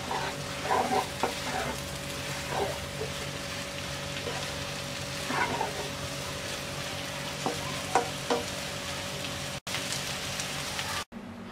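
Papaya stir-fry with egg, lentils and chopped coriander is stirred in a pan, giving a quiet, continuous sizzle with scattered scraping strokes of a spoon.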